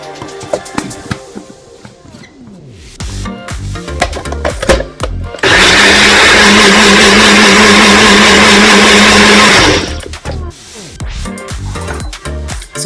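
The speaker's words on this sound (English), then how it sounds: "I'm going to blend it until it's smooth" A loud blender blends rice and banana peel, running steadily for about four seconds, a dense whirring roar, with clattering kitchen handling noises before and after.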